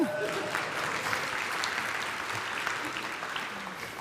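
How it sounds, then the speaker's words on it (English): A comedy talk audience claps steadily and densely for about four seconds, the crowd close and moderately loud, with the applause easing slightly near the end. "Biggest applause we're going to get."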